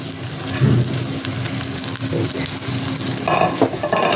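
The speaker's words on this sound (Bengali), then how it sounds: "আদা, রসুন, শুকনা মরিচ, এই 3টাই আমি দিয়ে দিচ্ছি।" Garlic, ginger and dried chillies fry in hot oil, producing a dense, loud crackling sizzle with intermittent stirring scrapes throughout.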